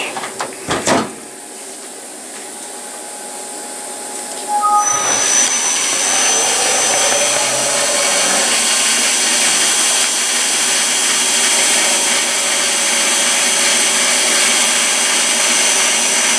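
A light facing cut on metal stock for a tool block: after a couple of sharp knocks, a loud steady whining machine roar starts and runs continuously for the rest of the clip.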